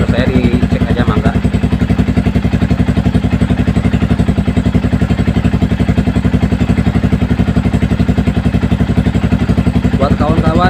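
An old Yamaha Vixion motorcycle engine runs at a steady idle, its rapid, even pulsing close and loud throughout while a mechanic checks the thermostat on the bike; a voice speaks over it.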